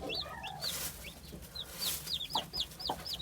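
Aseel Shamo chickens cluck and chirp, with repeated high chick peeps scattered across the clip over soft background noise.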